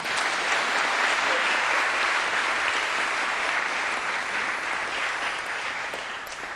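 Audience applause at a presidential science scholarship ceremony and reception, a steady dense wash of clapping from many hands that holds for several seconds and eases slightly at the end.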